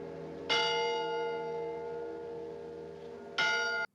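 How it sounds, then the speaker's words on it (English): A large bell rings twice, each strike followed by a long, rich humming decay, with quiet in between. "someone's ringing that bell"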